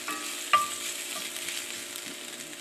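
Sliced ginger fries in a pan with a soft, steady sizzle, joined by a brief clink early on and faint stirring.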